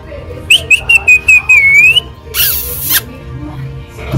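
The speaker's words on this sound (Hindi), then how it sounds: "सीटी बजाओ चीकू" A pet bird gives a clear, high, sliding whistle in a few short bursts followed by one longer drawn-out note, heard up close, then a brief harsh rustling noise.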